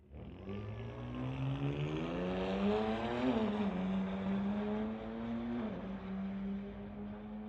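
A 2008 BMW roars down a drag strip, its engine a loud, close, continuous drone climbing in pitch with a couple of brief dips as it shifts gears.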